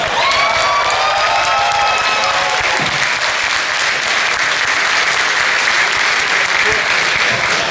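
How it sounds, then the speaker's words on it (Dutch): Loud, sustained applause and cheering from a crowd at a carnival prince's evening, with whistles and shouts riding over dense clapping early on before it settles into a steady roar of hands. "Mogen nog één keer een heel groot applaus voor deze mannen"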